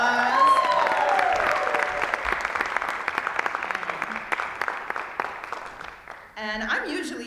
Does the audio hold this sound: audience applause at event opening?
yes